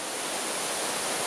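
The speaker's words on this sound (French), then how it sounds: "on est sur une vraie cascade" Steady broadband roar of a large mountain waterfall, continuous and loud with no breaks, heard alone without voices.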